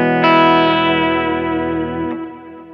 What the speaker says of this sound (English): Here's a clean tone with a lot of stereo verb and delay.